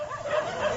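A stray dog in Bali barks and yips in a short, strained burst, fairly close, with street noise behind it.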